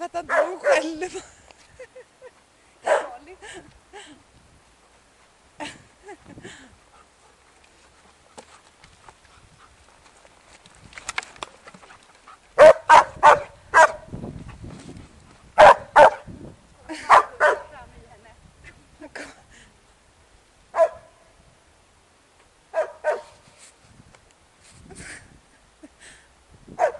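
Dogs, a Dobermann and a German Shepherd, bark in scattered sharp bursts and short volleys, close and fairly loud, with quiet gaps between, while people talk around them.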